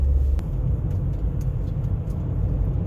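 A car drives a lap of the Nürburgring Nordschleife during construction works, its engine a steady deep rumble close by with faint clicks over it and no talking.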